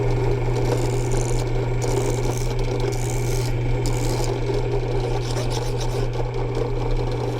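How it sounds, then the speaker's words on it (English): A hard steel extractor plunger from a Sako L61 rifle being shortened with a hand file, steady close scraping strokes in a continuous rasping rhythm over a constant low hum. "I'm just going to simply shorten it up with the file"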